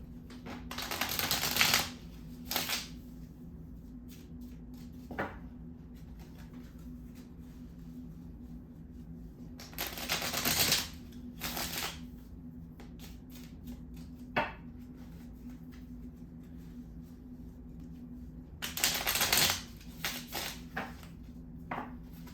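A mini tarot deck being shuffled close by, in three separate bursts of soft riffling and card slaps spread between quiet stretches, with a few light taps in between.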